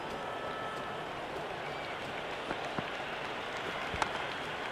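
Steady crowd noise from a cricket stadium in the video game Cricket 26, a continuous wash of cheering and applause at moderate level with a few faint sharp taps.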